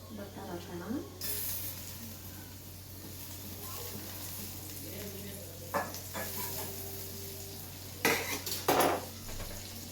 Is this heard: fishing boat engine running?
no